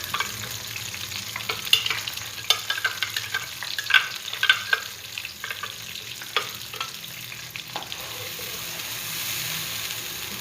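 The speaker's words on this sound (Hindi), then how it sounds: "अब इसको हम ऑयल में डाल देंगे।" A blended spice mixture for beef kofta curry fries in hot oil with a steady sizzle and crackle. Stirring adds scraping and spattering pops throughout, with no talking.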